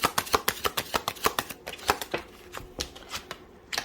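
Tarot cards riffle and snap as they are shuffled and drawn from a deck: a quick run of crisp, close, fairly quiet flicks and taps in an uneven rhythm.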